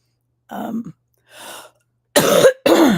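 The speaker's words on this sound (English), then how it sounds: "There's another one of those coughs." A person coughs and clears their throat during a livestream, a few separate bursts with quiet gaps, the last two loud and close.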